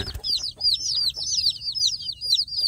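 Young village chicks chirp in busy, high-pitched cheeps while being fed, nearby and continuous, with no voices over them.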